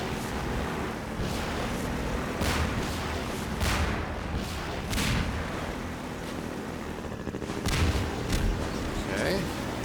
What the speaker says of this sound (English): Is it that barrel that keeps exploding that's killing me?